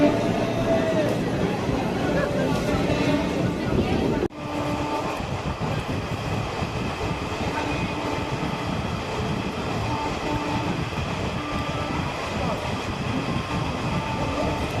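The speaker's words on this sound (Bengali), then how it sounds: "আমাদের ট্রেন ছেড়ে দিল শেওড়াফুলি জংশন থেকে।" A local passenger train pulls away from Sheoraphuli junction toward Bandel, heard from inside as a loud, steady rumble with rhythmic clatter, cut briefly near the start, with faint voices in the carriage.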